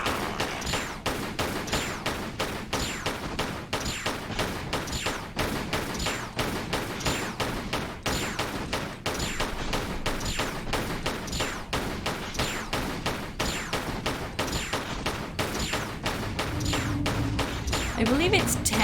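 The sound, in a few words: revolver gunshots at a demigod in Tomb Raider level editor game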